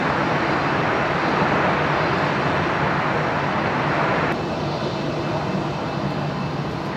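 Airplane at Brisbane Airport at twilight, a steady broadband engine roar holding loud and even throughout, with no voices over it.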